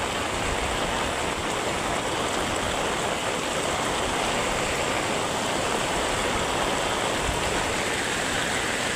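Heavy rain pouring onto a flowing river, a dense, unbroken roar of water that stays loud and even throughout, with no voices.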